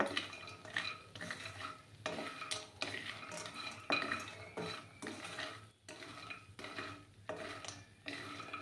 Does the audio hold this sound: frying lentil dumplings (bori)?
yes